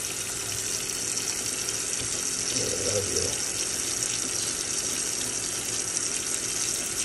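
Hot water runs steadily from a tap, a continuous broadband hiss holding level throughout without pause.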